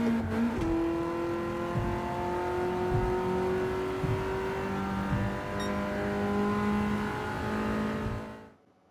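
A BMW M3 race car engine at Kyalami in Assetto Corsa Competizione revs and drones steadily at close range, with pitch sweeping up through gears and tire noise, fading out at the end.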